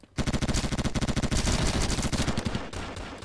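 Rapid automatic gunfire in the KUBOOM multiplayer FPS game, a loud, dense stream of shots that runs almost without a break for several seconds.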